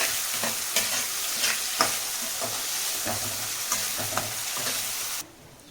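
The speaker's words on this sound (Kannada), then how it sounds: "ಇವಾಗ ಇಷ್ಟು ಹಾಕಿದ್ರಲ್ಲ ಎಷ್ಟನ್ನು ಫ್ರೈ ಮಾಡ್ಕೊಳ್ಳೋಣ" Onion frying in a pan for dal dokali, a Gujarati dish, with a close steady sizzle and repeated clinks and scrapes of a spoon stirring, cutting off abruptly near the end.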